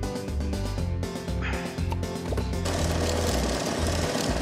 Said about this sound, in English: You drill a hole, and then it comes out.